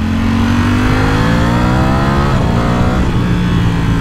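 Ducati Streetfighter V4 Lamborghini edition motorcycle on its stock exhaust, V4 engine revving loudly and close, with a steady strong drone that climbs and then dips around the midpoint, with no talking.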